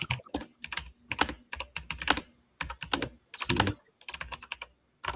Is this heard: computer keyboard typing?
yes